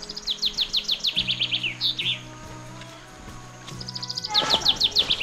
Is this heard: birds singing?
yes